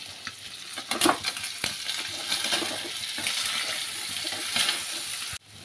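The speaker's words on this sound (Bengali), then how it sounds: "এবার এটা কষিয়ে মশলাটা, তারপর কচুরলতিগুলো দিয়ে দেবো।" Spice masala fries in a pan with a continuous soft sizzle and occasional clinks and scrapes of stirring, fairly quiet and close, with no voices.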